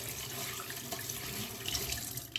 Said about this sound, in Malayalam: കൈ കഴുകിയിട്ട് പോയിട്ട് തിന്നാം.